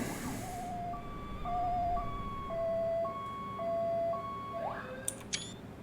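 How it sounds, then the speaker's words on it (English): In a video game set on the Isle of Man, a two-tone ambulance siren alternates high and low in a regular pattern, clear and fairly close, ending with a few short electronic chirps. "Here comes the ambulance."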